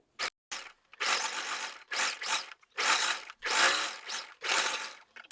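Sewing machine stitching along the very edge of plazo pant fabric near a pocket: close, loud bursts of rapid mechanical whirring, about six runs of varying length split by short pauses.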